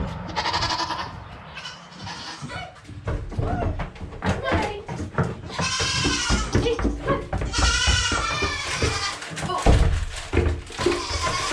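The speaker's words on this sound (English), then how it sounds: "She is the only goat that I am milking right now." A milking goat on a homestead bleats repeatedly and loudly up close, mixed with a person talking to her and occasional thuds.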